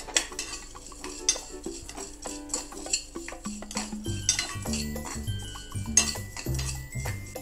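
Fennel seeds are stirred into fish curry masala in a pan, with a metal spoon clinking and scraping against the pan in repeated close strokes, irregular and lively, with no talking.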